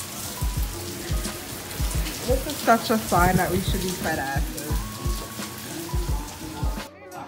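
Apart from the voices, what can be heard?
pouring rain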